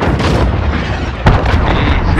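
Cruise missile strike in Call of Duty: Modern Warfare multiplayer, a loud sustained rumbling blast with a sharper burst partway through, and the low roar continues afterward with no voices.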